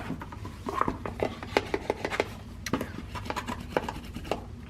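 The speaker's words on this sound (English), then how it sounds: "Now I'm gonna go through and just give them a quick little burnish." Paper pieces inside a handmade keepsake box being burnished, a series of quick close rubbing and scraping strokes in an uneven rhythm, fairly soft and with no voice.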